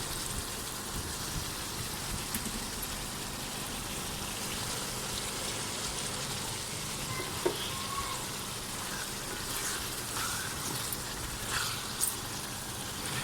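Onions fry in a hot pan for a vegetable dish, a continuous even sizzle with a fine crackling hiss and occasional small pops, steady and moderately quiet.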